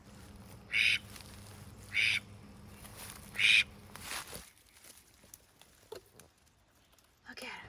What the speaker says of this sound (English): It's an endangered red-tailed teal.